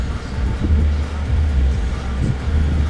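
A low-mileage 2012 Mazda6i four-door sedan on a test drive on a very hot day, with a steady low engine and road rumble holding constant throughout.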